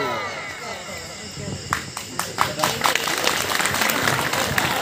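An audience applauding after a child's powada performance at an Ahilyadevi Holkar Jayanti event; a voice is heard at first, then scattered claps build into steady clapping.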